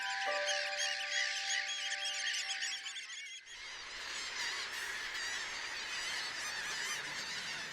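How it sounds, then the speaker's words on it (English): Large flocks of wintering birds, which arrive from as far as Arctic Canada, honk and call on the Dee Estuary. Repeated goose-like honks sound at first, then give way to a dense, continuous wash of massed calling from a big flock. "tens of thousands of birds from as far afield as Arctic Canada begin to arrive on the estuary"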